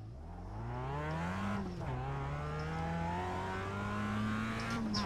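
Mazda race car in iRacing at Brands Hatch, engine droning steadily and rising through gear changes as it pulls away, close and continuous with no talking.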